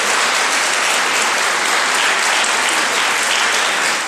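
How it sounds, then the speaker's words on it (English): An audience at a debate event bursts into dense, loud applause for the round winner, a steady wash of clapping that holds throughout. "You guys deserve an amazing round of applause."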